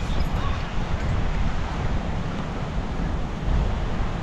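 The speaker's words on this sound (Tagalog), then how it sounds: "Sobrang lalakas ng alon eh." Strong ocean waves crash and surge in a continuous heavy roar, mixed with gusting wind buffeting the microphone, loud and close throughout.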